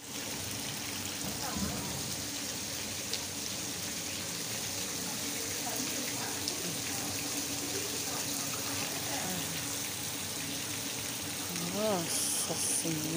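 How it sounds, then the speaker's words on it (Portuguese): Water gushes steadily from burst Sabesp water mains flooding into a house in the Conceição neighbourhood, a dense continuous rushing and splashing roar that never lets up, with brief voices faintly mixed in. "Estourou os canos da Sabesp."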